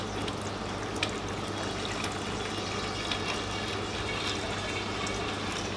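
Water runs steadily through a Phosban reactor in an aquarium setup, a continuous gentle rushing and trickling over a constant low pump hum, with no voices.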